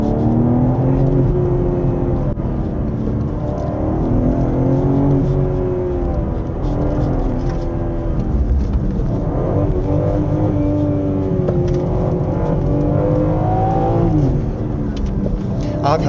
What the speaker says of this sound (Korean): 일단은 사륜구동 스포츠로 출발합니다